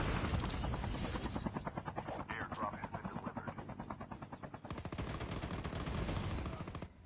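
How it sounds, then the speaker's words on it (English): Helicopter rotor thumping steadily in a Call of Duty: Mobile match, with loud rapid machine-gun bursts and gunfire throughout, close and dense, while players talk over it. "Thank you for the helicopter!"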